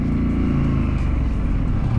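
Triumph motorcycle engine revving as the throttle is rolled on, a loud, close, continuous low growl that holds steady for the whole stretch.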